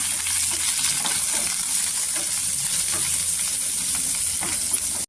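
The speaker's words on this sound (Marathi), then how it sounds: "इथे 1 छोटा कांदा टाकायचा. कांदा छान असा गोल्डन कलर करून घ्यायचा." A small onion fries in hot oil with fresh curry leaves in a kadhai until golden, giving a continuous close sizzle with crackling pops and occasional stirring scrapes.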